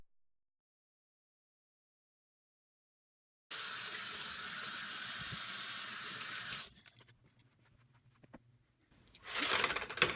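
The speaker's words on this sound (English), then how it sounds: "let me wash off my hands covered in oil and seasoning" Hands coated in oil and seasoning are washed under a running kitchen tap: after silence, a loud steady gush of water, then quieter splashing and rubbing, and the stream surges again at the end.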